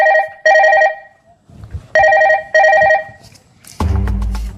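A phone rings loud and close with an incoming call: a trilling electronic ring in paired bursts with short gaps, repeated twice, followed by a different louder, lower sound at the end.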